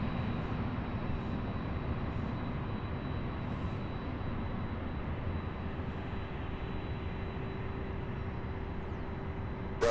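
An aircraft at Louisville International Airport taxis toward a cargo ramp, giving a steady distant engine rumble and whine that holds level throughout, with no voices.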